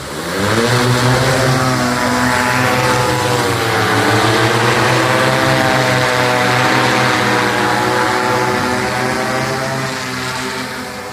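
Close, loud drone propeller whine holds steady, its tones sliding briefly lower and back up midway, then easing slightly toward the end.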